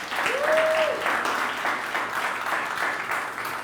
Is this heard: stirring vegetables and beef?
no